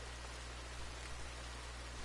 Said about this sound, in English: About time we had some rain.